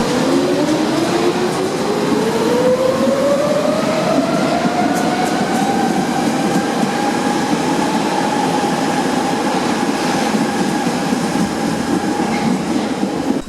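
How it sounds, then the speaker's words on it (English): A loud old Berlin U-Bahn subway train pulls away, its motor whine rising steadily in pitch and then leveling off over a constant rumble of wheels. "on the Berlin U-Bahn there are some really awesome old trains with epic motors"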